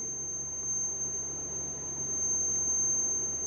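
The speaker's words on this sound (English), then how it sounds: "So you can hear a piezo buzzer beeping" A shrill, high-pitched piezo buzzer on an Arduino or Raspberry Pi person counter sounds steadily and close over a low background hum.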